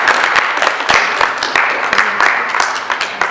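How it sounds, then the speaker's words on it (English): An audience at a writers festival author talk claps loudly and close by, with distinct individual hand claps rattling rapidly over a continuous applause bed. "You can clap."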